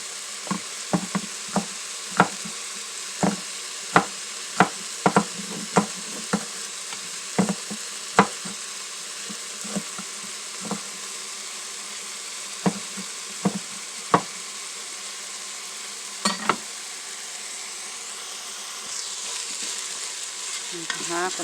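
Pancit made with ramen noodles sizzling and frying in an Instant Pot, with a steady hiss broken by frequent sharp scrapes and clacks of stirring that thin out toward the end.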